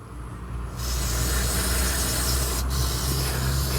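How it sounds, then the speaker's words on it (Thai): Electronics cleaner is sprayed onto spliced motorcycle wiring as a loud, steady aerosol hiss, close and continuous. The hiss starts suddenly after a quieter moment and holds for about three seconds with a brief break near the end. "หาสเปรย์ที่ ล้างพวกอิเล็กทรอนิกส์พวกนี้ล้างหัวฉีดเนี่ยฉีดเข้าไปด้วย"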